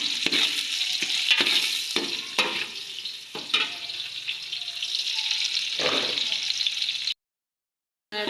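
Onions frying in a pan with ginger-garlic paste, a steady broadband sizzle with intermittent stirring scrapes, close and fairly loud, with a brief drop to silence near the end.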